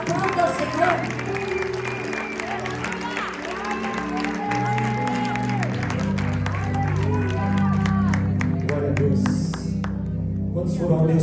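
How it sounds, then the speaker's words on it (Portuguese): Church congregation clapping along during a Pentecostal-style service, dense rhythmic applause mixed with sustained music and voices, loud and continuous, swelling toward the end. "Aplauda o Senhor, igreja. Aplauda o Senhor."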